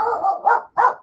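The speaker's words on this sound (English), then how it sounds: "Read the dog barking at the farm animals in the back" A dog barks at pigs and other farm animals somewhere behind the speaker: one drawn-out bark is followed by two short, loud barks with brief pauses between them, and nobody talks over it.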